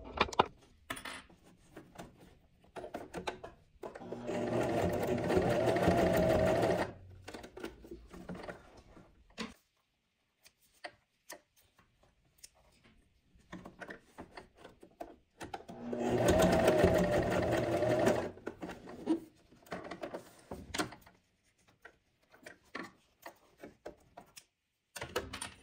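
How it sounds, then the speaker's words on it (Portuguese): A sewing machine stitches fabric in two steady whirring runs of a few seconds each, separated by long quiet stretches of light handling clicks and rustles. "Vamos levar na máquina para costurar."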